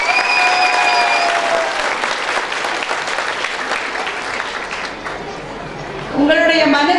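Loud, dense applause from a large audience at a book fair speech in Perambalur, steady for several seconds before easing as a voice begins speaking over the fading clapping.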